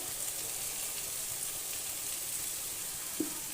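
Mustard oil sizzles steadily as it is poured over ridge gourd cooked with poppy seeds, a soft continuous hiss with a brief clink near the end.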